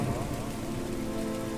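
Steady rain pouring in Lahore, a dense, even hiss of drops on surfaces, loud and continuous with no voices.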